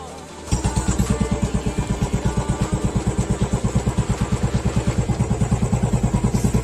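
A Royal Enfield Standard 350 BS6 motorcycle engine fires up after a brief quiet moment, then settles into a loud, steady thumping idle with a rapid, even single-cylinder beat close by.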